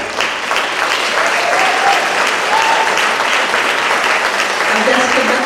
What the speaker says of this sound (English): Can we have another round of applause for director and arranger